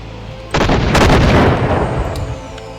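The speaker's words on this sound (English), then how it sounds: "Hopefully the explosions start working again." Explosions in the top-down space shooter game On the Edge: a sudden loud burst that swells into a dense, booming rumble lasting over a second before tapering off, with no talk.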